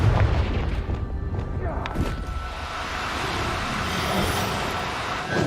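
A Confringo fire spell bursts in Hogwarts Legacy, a loud low boom at the start followed by a rumbling, crackling wash that lingers under faint background noise.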